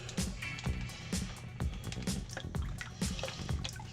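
Fat-free house Italian dressing marinade glugs from a bottle into a bag, a close, quiet run of uneven liquid gurgles and drips with a low rumble underneath.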